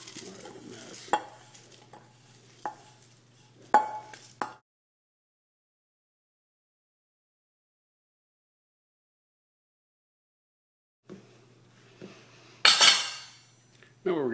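A small 5-inch metal pan is handled while making dry-baked s'mores, with close scraping and clinking knocks, then a long silence before a louder burst of metallic clatter.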